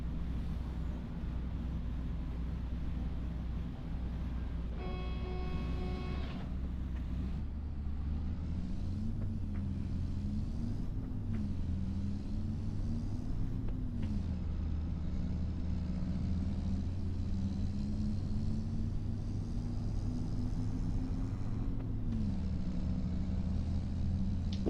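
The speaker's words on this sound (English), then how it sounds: "Like that sound of the truck." Kenworth T880 rollback tow truck with its engine running, a loud steady low diesel rumble that surges and eases as it revs, with a brief higher tone near the start.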